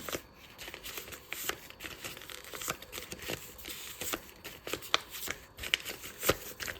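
Paper surprise packets filled with different foods are handled and crinkled up close, giving quiet, irregular rustles and sharp crackles in quick bursts, with no voice heard.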